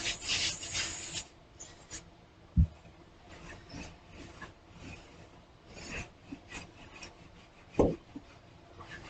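Noodle dough is rolled out on a floured board, giving soft rubbing and scraping strokes from the rolling pin with a couple of sharp knocks, close and fairly quiet.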